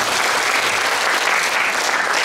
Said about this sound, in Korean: 박수 한번 다시 해주시기